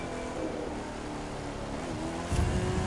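A rallycross-spec racing car in The Crew 2, engine droning steadily at high revs with tonal harmonics, then a louder rumbling surge near the end, close and continuous.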